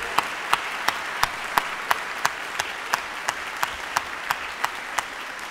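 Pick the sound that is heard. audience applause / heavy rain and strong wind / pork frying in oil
audience applause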